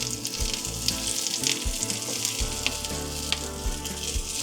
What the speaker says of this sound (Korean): 자, 볶아볼게요. 기름 살짝 두르고 대파부터